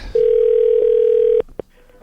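A loud, steady telephone dial tone holds for over a second after a call is hung up, then breaks off into two short clicks.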